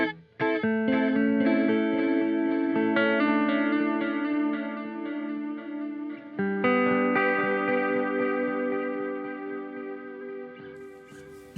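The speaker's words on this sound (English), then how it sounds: "So digital is basically a straight digital delay" Electric guitar played through a Meris LVX delay pedal in straight digital delay mode: sustained chords and notes ring out with clean repeating echoes trailing behind, loud and close, with no talking.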